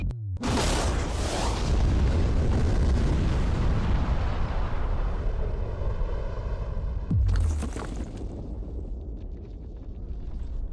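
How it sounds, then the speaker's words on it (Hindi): A huge, deep explosion blowing up a safe erupts and rumbles on, followed by a second heavy boom and a long rolling roar that slowly fades. "लेकिन ये एक असली धमाका है।"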